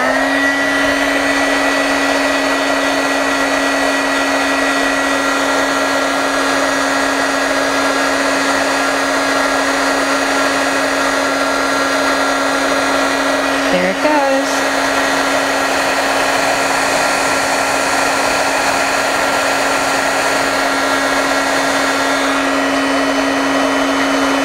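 A heat tool blows hot air to shrink a piece of plastic on a craft table, a loud, unbroken motorized hum with a steady tone that runs on without pause, with no one speaking.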